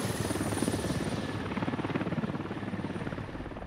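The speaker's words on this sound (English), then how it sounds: "Helicopter moving right through the camera." A helicopter in a military combat video game passes by the camera, its steady rotor chop loud and continuous throughout with no voices over it.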